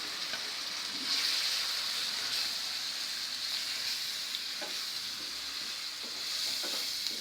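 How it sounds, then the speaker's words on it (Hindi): Onion paste masala frying in a pan for shahi egg korma, a steady bright sizzle with occasional faint stirring scrapes, close and continuous throughout. "ये मसाला जब तक भून रहा है"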